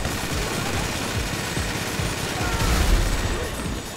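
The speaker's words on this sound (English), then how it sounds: "I break out the minigun again." A minigun firing in GTA Online, a continuous dense roar of rapid-fire shots that swells slightly toward the end, with a voice talking underneath.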